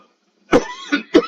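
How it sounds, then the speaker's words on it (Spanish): Two sharp coughs close to the microphone, one just past the half-second mark and another near the end, with a brief throaty rasp between them. "no sin antes toser yo y pediros disculpas por la tos"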